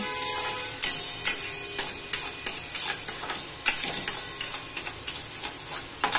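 Mixed vegetables with salt, chilli, mutton masala and coriander powder sizzle in a pan, a constant hiss broken by frequent sharp clicks and scrapes of stirring, with no talk.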